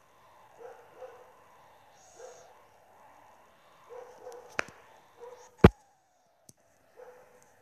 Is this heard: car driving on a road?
no